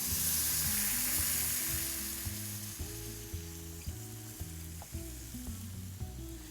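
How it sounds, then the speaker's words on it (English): Chicken pieces sizzle loudly in a pan as sherry wine is added for chicken Marsala, a dense, close hiss with faint clicks of stirring and no talk. "Let's add our sherry wine to it."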